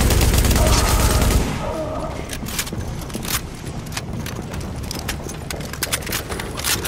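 Video game The Division: a loud, dense burst of gunfire opens, then sharp scattered shots crack intermittently over a steady low background, fairly close.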